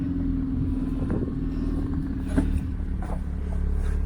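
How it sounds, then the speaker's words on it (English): A straight-piped car with a freshly painted pink clear-coated body idles with a deep, throbbing rumble and rises briefly in a short rev, heard fairly close with no one speaking. "Give her a little rev."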